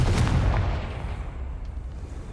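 Confringo blasting spell cast in the video game Hogwarts Legacy, a loud booming burst with a rumbling low-end impact that fades into a decaying rumble.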